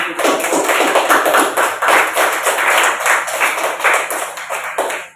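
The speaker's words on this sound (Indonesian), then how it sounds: "Oke, tepuk tangan dulu." A group bursts into loud, steady clapping after a student presentation in a classroom, the dense applause continuing without a break and fading at the end.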